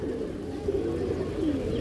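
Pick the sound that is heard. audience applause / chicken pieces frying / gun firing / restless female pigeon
restless female pigeon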